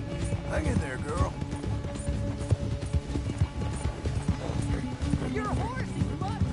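Horse galloping in the video game Red Dead Redemption, hooves clip-clopping in a steady rapid rhythm under a busy mix of game music and noise, with a voice talking over it.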